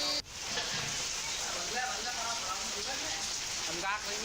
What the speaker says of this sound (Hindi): लगातार 3 दिन से बारिश भी हो रही है